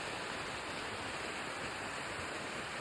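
A hidden waterfall at Fairmont Hot Springs, British Columbia, makes a steady, faint, broadband rushing roar, even and unbroken throughout with no voices.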